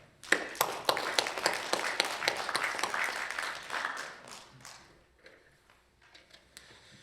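An audience claps at a ceremony in the National Assembly marking the 80th anniversary of Korea's founding program. Scattered sharp claps quickly build into fairly quiet, moderately dense applause that thins out and fades away toward the end.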